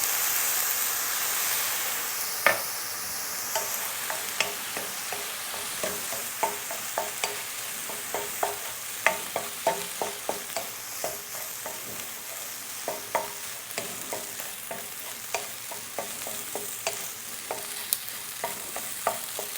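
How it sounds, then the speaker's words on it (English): Egg fried rice sizzles steadily in a pan with soy sauce tossed in, a close constant frying hiss broken by frequent sharp scrapes and clicks of stirring. "our Momofuku soy sauce, tossed on the side so it gets all nice and toasty"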